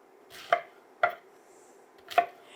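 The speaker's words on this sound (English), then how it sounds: "we're just going to cut it into strips to mimic a fettuccine noodle" A knife slices cabbage into strips on a cutting board, giving three distinct crisp chops, close and clean, spaced about half a second to a second apart.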